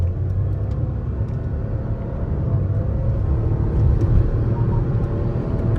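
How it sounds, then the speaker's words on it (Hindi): A Maruti Suzuki Victoris ZXI Plus strong hybrid car cruising at high speed, giving a steady, dense cabin rumble of road and wind noise that swells slightly toward the end, with no talking. "तो देखते हैं कि हाई स्पीड में कैसा ओवरऑल फीडबैक मिलता है इस गाड़ी के साथ में।"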